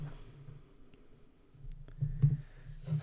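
A quiet mouse click on an update button, with a few faint, sharp ticks over a low background hum and no voice.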